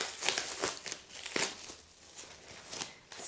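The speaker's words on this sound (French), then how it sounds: "Je vais déballer, je vais te montrer." A package of books being unwrapped, giving close, irregular crinkling and rustling of packaging in several loud bursts.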